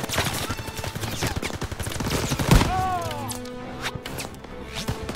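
Gunfire in the World War II shooter Call of Duty WWII, a loud rapid burst of shots with a sharp crack in the middle, followed by quieter whizzing and game effects.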